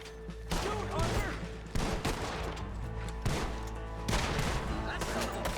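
Loud bursts of gunfire in the video game Red Dead Redemption 2, several heavy volleys in quick succession, each cracking out sharply before the next one starts.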